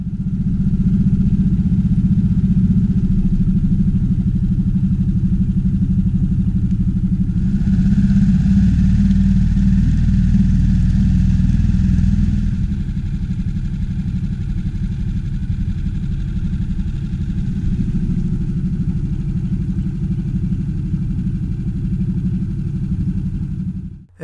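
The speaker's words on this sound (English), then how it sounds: "Rowing clear of the seaweed, I started the outboard and gently cruised the shallows" A 6 horsepower outboard motor running steadily on a small boat cruising shallow coastal water, a loud continuous low drone with a slight change in pitch partway through, cutting off at the very end.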